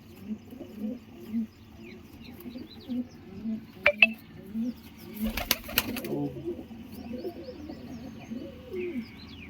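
Pigeons coo in soft, repeated low calls close by, with a few brief chirps and a burst of wing flutter partway through.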